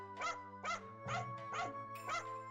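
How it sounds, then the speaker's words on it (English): Dogs bark in short spaced bursts, about six yips and woofs over a couple of seconds, in the Onimusha 2: Samurai's Destiny video game. A low steady hum runs beneath them. "Japanese wolf dogs are the best."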